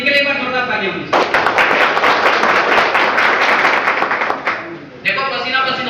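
An audience at a leadership development seminar in Hiranpur, Pakur, Jharkhand breaks into loud, dense clapping for about four seconds, with someone talking just before and after the burst.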